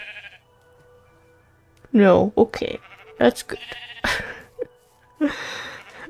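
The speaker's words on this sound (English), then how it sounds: "Leave the sheep alone, please." Sheep in the Minecraft video game bleating in several short wavering cries, loud and close, interleaved with a person talking in a quiet setting.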